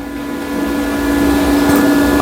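A welding machine powers on with a steady electrical hum and fan whir that builds slightly and holds, close and fairly loud, with no talking.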